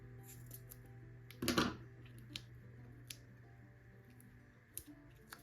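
Scissors snip once through a paper craft piece, a brief close crunching cut over a steady low hum, followed by a few faint ticks and taps.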